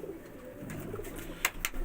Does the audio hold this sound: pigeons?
yes